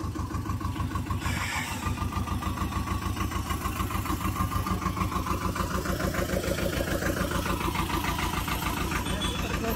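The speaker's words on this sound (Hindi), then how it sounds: "ट्रैक्टर आ गया" A tractor engine runs steadily at close range, a loud rhythmic diesel chug with a regular knocking pulse throughout, with people talking faintly beneath it.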